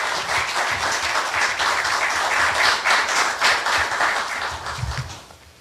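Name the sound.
applause welcoming the university president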